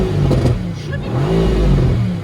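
A Mercedes-AMG GT R engine revs hard up close, its loud throaty note climbing and falling in a couple of surges, with a faint voice briefly audible.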